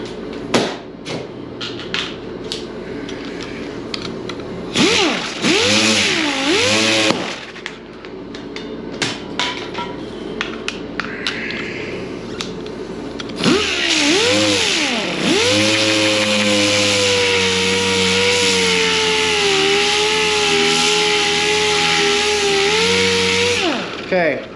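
A power sander works a plastic repair with sharp 80-grit sandpaper, its motor whining and rising in pitch as it spins up, loud and close, with short bursts before a long steady run.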